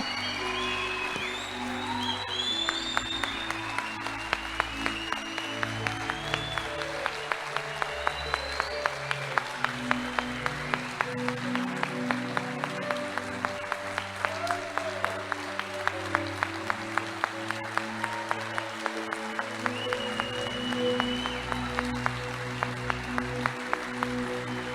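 A church congregation claps in a long, steady wash of applause over sustained low musical tones, continuing evenly throughout without talk.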